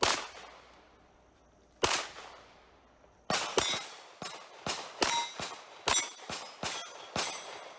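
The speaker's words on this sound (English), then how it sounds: "I actually shot the plate before I moved on to another plate" Bullets striking steel plate targets at a shooting competition: a sharp clang, another after a pause, then a quick string of about eight ringing metallic hits, crisp and fairly close against a quiet background.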